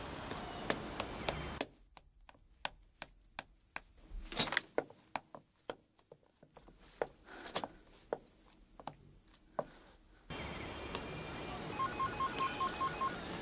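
A phone rings in a Turkish drama series, with a sustained ring at the start and again near the end, and quick sharp clicks and taps in the quieter stretch between.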